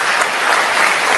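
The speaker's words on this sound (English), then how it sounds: "A big round of applause for Reverend." Loud, dense applause from an audience for a reverend, a brief wash of steady clapping filling the room.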